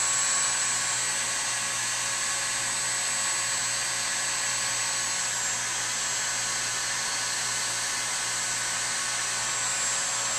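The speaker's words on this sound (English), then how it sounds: "put the heat gun on the thick areas, and if you notice, it'll start cracking right away" A heat gun blows steadily on thick Venetian plaster to crackle a Giudecca finish, giving a loud, continuous whining rush with no pauses and no talking.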